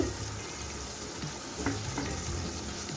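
Spice paste of coriander, cumin and turmeric with a splash of water frying in a pan over medium heat for chickpea dal, a soft continuous sizzle with faint stirring scrapes.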